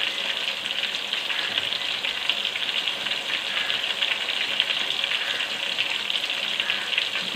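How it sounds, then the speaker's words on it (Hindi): Marinated chicken fries in a pan for a dehgi steam roast, a steady close sizzle with crackling oil throughout and no voices. "ये देखें हमारा चिकन कितना प्यारा फ्राई हो रहा है।"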